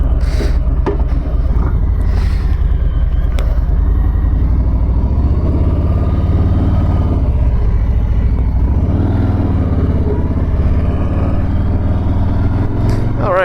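A Harley-Davidson Street Bob motorcycle, a first-year model, rumbles steadily at close range as it pulls away, with a deep low engine drone throughout and a slight swell in revs partway through.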